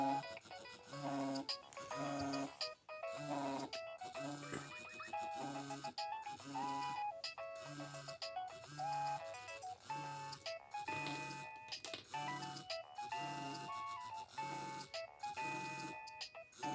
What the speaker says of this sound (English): It just has one of a kind ringtones.